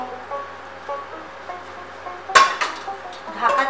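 Lid set over a pot of Bengali chicken and potato curry, one sharp metallic clink followed by a couple of lighter rattles against a quiet kitchen background.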